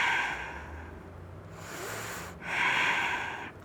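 Two slow breaths during a one-footed bridge yoga pose, each a soft, airy rush of air through the nose, close and fairly quiet, with a pause between and no talking.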